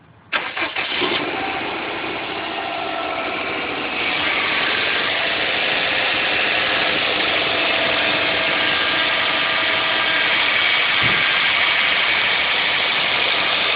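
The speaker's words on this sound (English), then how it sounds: "Vehicle from a cold start." A 2006 Saab 9-2X Aero cranks briefly on a cold start, catches, and settles into a loud, steady idle that hums on close by with a slight rise in pitch, no voices.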